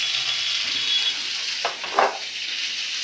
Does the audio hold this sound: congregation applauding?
no